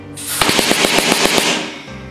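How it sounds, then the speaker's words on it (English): Homemade PVC paintball gun firing a rapid full-auto burst of about ten sharp, evenly spaced shots, loud and close, with a hissing air rush under the volley. "This is just to demonstrate what it's supposed to sound like in full auto."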